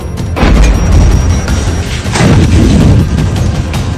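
A huge explosion in Kharkiv, Ukraine, booms loud and close, with heavy rumbling blasts swelling and rolling on for several seconds.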